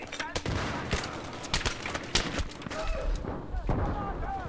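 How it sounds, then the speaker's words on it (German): Repeated grenade blasts and gunfire sound throughout a Battlefield 3 multiplayer match, with sharp bursts spread irregularly across the clip amid a busy battle din. "So, jetzt einfach mal Granaten spammen."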